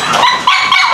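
Farm dogs barking, a couple of loud, close yelping barks in quick succession, heard alone without talk.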